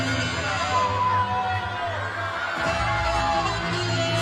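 Arena crowd at a Mizzou versus Kentucky gymnastics meet, teammates whooping and yelling encouragement for a gymnast, a continuous layered roar of shouts and cheers at steady volume.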